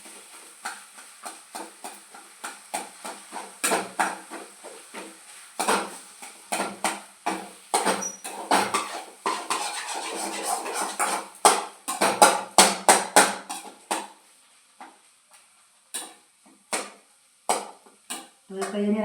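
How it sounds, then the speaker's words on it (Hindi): A spatula clatters and scrapes through potato masala frying in a pan for besan aloo bread pakoras, making irregular bursts of sharp metallic taps with short pauses, close and fairly loud, with no talking. "तो ये मेरा मसाला फ्राई हो रहा है"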